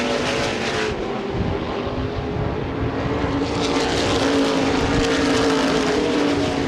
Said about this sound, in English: Scott Coe clears him in the middle of the corner. Down the front straightaway, your new leader, Scott Coe